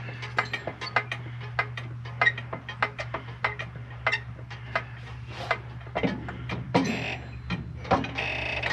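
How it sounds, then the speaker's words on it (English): A car jack ratchets steadily with rapid, evenly spaced clicks as it raises one wheel off the ground, close and clear, with some heavier clunks near the end. "We'll get one wheel lifted off of the ground."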